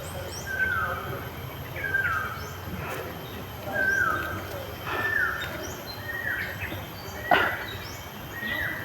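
Birds call outdoors with short, repeated chirps spaced about a second apart, moderately near against a low background rumble, with a sharp knock near the end.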